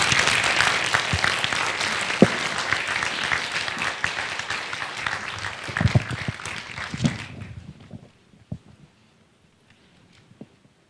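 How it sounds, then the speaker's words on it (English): Audience applause at a lecture after a question session, a sustained wash of many hands clapping for about seven seconds before cutting off to near silence with a few scattered final claps. "A round of applause for Chi Van Fleet."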